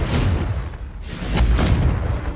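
Blasting spell explosions in Hogwarts Legacy arrive as loud, heavy booms in quick succession, with a sharp impact near the one-second mark. They roll on with rumbling low-end bursts.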